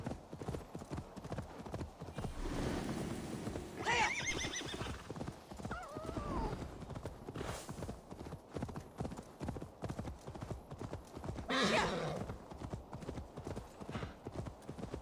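A horse gallops in Assassin's Creed Valhalla, its hooves keeping a steady rhythmic clip-clop across the whole stretch, with two loud whinnies and some quiet talk mixed in.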